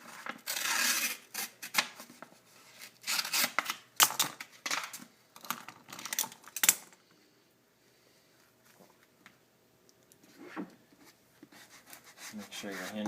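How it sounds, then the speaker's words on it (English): Backing paper is peeled off vinyl wrap film for a BRP Can-Am Spyder frunk insert, heard as close bursts of crackling, rasping tearing that stop and start, then fade into near quiet. "Peel off the backing paper."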